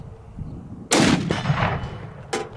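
An Accuracy International Mk13 sniper rifle in .300 Win Mag fires a sharp, loud report that echoes and rolls away, followed by a second, fainter crack a moment later.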